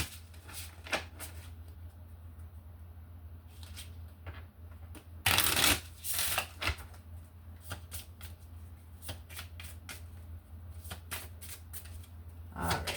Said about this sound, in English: we'll get a couple out of this little Lenormand deck, and then we'll add tarot to it.